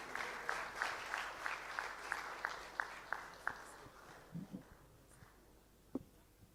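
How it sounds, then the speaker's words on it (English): Audience applause for the sponsor at a launch party: a rhythmic burst of fairly distant clapping, many hands in near-unison beats, tapering off with a few stray claps. "Big round of applause for our sponsor"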